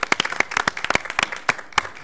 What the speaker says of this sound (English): So you guys deserve a hand of applause